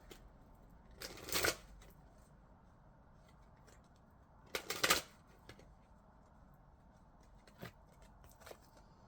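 Queen of the Moon Oracle cards being shuffled, heard as two distinct riffling bursts a few seconds apart, close and crisp in a quiet room, followed by a couple of faint taps.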